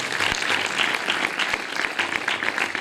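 An audience at a community meeting in Gollapally claps together in a steady, dense round of applause, with individual hand claps standing out against the sustained patter throughout.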